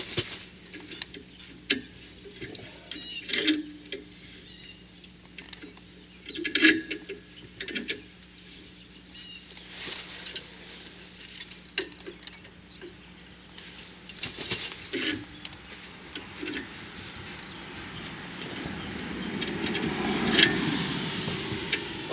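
Clamps are ratcheted tight to compress suspension springs on a 2006 Pleasure Way Dodge Sprinter Class B RV, giving quiet intermittent clicks and metallic ticks with pauses between them, close by and with no talking.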